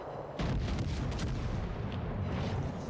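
Secondary guns of a warship firing in the video game World of Warships Legends: a dense, continuous rumble of booming shots that swells after a short lead-in and stays loud throughout.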